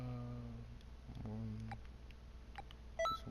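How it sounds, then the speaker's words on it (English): A mobile phone gives a brief electronic chirp near the end, clear and bright over a steady background of game sounds and voices. "Hear that? That was my phone"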